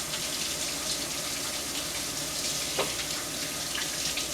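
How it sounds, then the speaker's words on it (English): A kitchen sink tap runs in a steady, close gush of water as hands are rinsed quickly while baking sugar cookie bars. The splashing stays continuous and no one speaks. "then I'm going to rinse my hands quickly"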